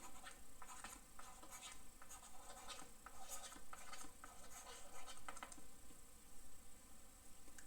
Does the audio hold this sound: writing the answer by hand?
yes